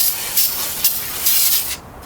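Water sprays onto a burnt 2016 GMC Yukon Denali to wash off soot, a close, steady hiss that swells in a few pulses before cutting off near the end.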